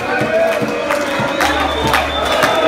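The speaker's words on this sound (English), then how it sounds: "It's our guitar player's birthday today, so give him a clap" A concert crowd at a Brazilian metal show cheers and whoops loudly for the band's guitar player on his birthday, a dense roar of voices with scattered claps close by.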